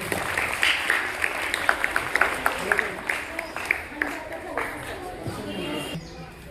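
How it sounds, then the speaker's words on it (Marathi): Scattered clapping from a classroom-style audience at a voting-awareness quiz, moderately loud and uneven, mixed with chatter and voices that carry on after the claps fade. "सर्वांनी टाळ्या द्यायच्या"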